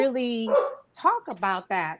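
A dog barks a couple of times, close and fairly loud, interleaved with a person talking indoors.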